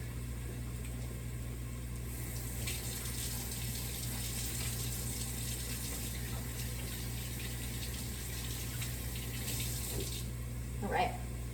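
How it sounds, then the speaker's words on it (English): Hands are washed under a running kitchen tap while cooking spaghetti and meatballs, a faint, steady hiss of flowing water over a low background hum, ending with a brief splash. "I shall wash my hand real quick."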